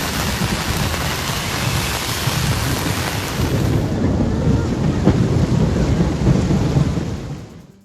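Heavy rain pours down in a dense, loud, roaring wash during Typhoon Haikui in Maoming, China, with deep thunder rumbling through the downpour, steady throughout before fading at the end.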